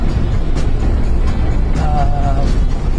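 A car on a long-distance drive through hilly country, with a loud, steady engine and road rumble heard from inside the moving vehicle, with faint brief tones passing over the drone.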